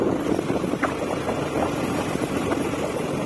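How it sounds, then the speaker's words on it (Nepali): A motorbike with a slightly loose chain rides along a village road, its engine droning steadily with rough buffeting wind noise and faint rattling underneath. "मेरो बाइकको चेन अलिकति लुज भएको छ है टाइट गर्नुपर्ने छ अलिअलि साउन्ड दिँदैछ चेनबाट"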